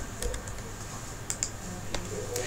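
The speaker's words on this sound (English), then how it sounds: "So we will type the contract number." Keys on a computer keyboard tapped in a few short, separate clicks as a contract number is entered, close and fairly quiet against a low background hum.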